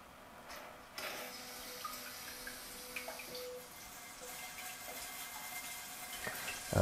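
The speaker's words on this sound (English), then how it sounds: "We also have the feminine wash, which kind of just moves things a little forward." A Toto C5 Washlet electronic bidet runs its feminine wash, a steady close spray of water with faint mechanical tones that ends in a louder burst.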